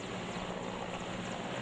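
A helicopter heard as a steady, continuous broadband engine and rotor drone at moderate level, unbroken throughout with no talk over it.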